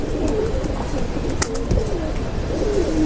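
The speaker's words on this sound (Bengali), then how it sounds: "এই যে দেখেন কত সুন্দর করে পিট বাচ্ছে কবুতরগুলা।" Bagalain breed pigeons coo close by, with soft, throaty, repeating coos rolling over one another and no talking.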